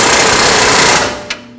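An impact wrench or power tool tightens the strut bolt on a 2005-2021 Nissan Frontier 2WD suspension, a loud, steady rattling hammer for about a second before cutting off, followed by a brief clank.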